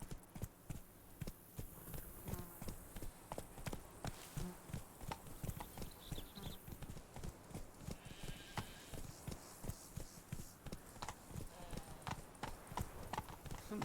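A horse galloping in The Witcher 3: Blood and Wine, with rapid rhythmic hoofbeats pounding continuously and close, a brief whinny and a voice speaking over the clatter.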